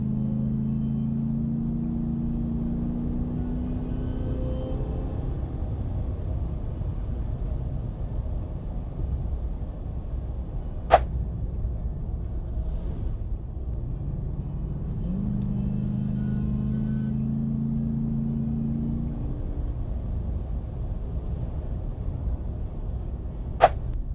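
Ram 1500 pickup with an Evil Energy cold air intake, engine droning steadily with two separate throttle swells that rise into a throaty intake roar, plus a couple of sharp clicks.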